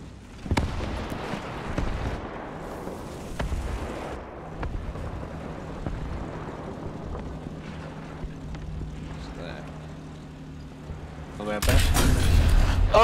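An incoming missile in the video game War Thunder, heard as a rising whoosh and roar amid aircraft drone and distant gunfire, ending in a loud blast; a player talks over it.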